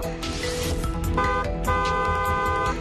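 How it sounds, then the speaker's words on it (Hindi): A car horn sounds in loud, sustained honks, two long blasts separated by a brief gap, over road traffic noise. "दूसरों को सावधान करने के लिए हॉर्न बजाएं"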